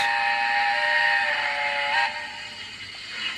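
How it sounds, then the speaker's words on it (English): A Hornby TT:120 model train, The Easterner, sounds a steam-style whistle: a bright, sustained tone lasting about two seconds, then a softer hiss carries on alone. "That's a nice whistle."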